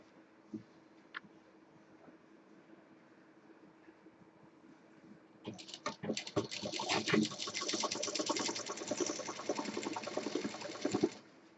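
A sewing machine stitches cloth for a Rajasthani jhola bag, starting after a few quiet seconds with small clicks, then running in a loud, fast, steady rattle that stops abruptly near the end.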